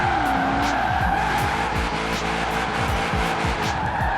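Tires squeal and skid continuously as a Nissan S13 with a 6.2 V8 drifts in Forza Horizon 4, the engine droning underneath with rhythmic gear-like pulses, loud and close with no talking.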